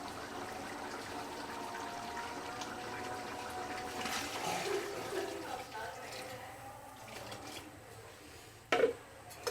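Water is poured into a large pot of cooked vegetables being readied for about a kilo of rice, a steady splashing fill that rises in the middle and then fades, with a few sharp clanks near the end.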